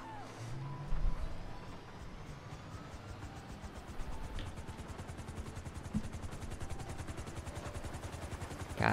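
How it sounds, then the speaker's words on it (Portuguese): Helicopter in the video game GTA 5 during an end-of-the-world scenario: a steady rhythmic rotor chop runs throughout, loud and close, over dense game noise with a few sharp thumps and clanks. "A gente vai pegar o helicóptero aqui."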